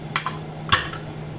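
A lid goes onto a pot of Jamaican-style oxtail, heard as a couple of light metallic clinks followed by one sharper clatter, close and fairly quiet over a steady kitchen hum.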